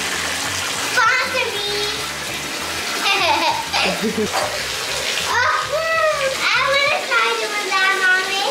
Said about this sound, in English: I'm gonna run the bath water.